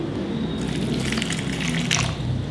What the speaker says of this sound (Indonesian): Kemudian kita tuang air